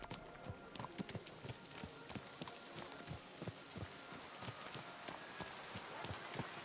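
Steady rhythmic clip-clop of horse hooves trotting along in Kingdom Come: Deliverance II, crisp and continuous, with a soft background hiss like light rain.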